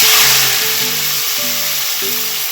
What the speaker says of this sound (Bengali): এবারে করলা কুমড়োটা ছাড়ছি